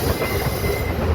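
A train rumbles across the 13-arch bridge on the Tenkasi–Kollam line, rolling wheels and wagons sounding close and continuous with a faint squeal over the steady roar.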